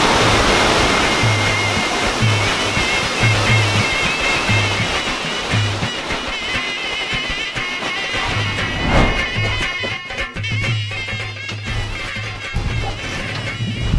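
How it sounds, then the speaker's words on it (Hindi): Steady, full-bodied roar of a mountain waterfall near Rakaposhi Viewpoint on the Karakoram Highway, broadband rushing water with no pauses, loud and close throughout. "वो आबशार की सूरत में ये दरियाओं में जाके शामिल हो जाते हैं।"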